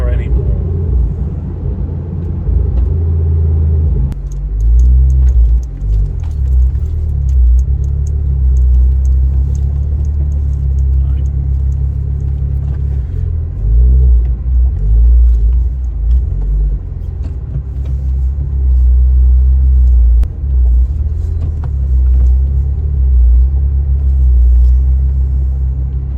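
Ford Focus ST225 engine rumbling steadily at close range, a deep continuous low drone that swells in places as if revving, with people talking over it.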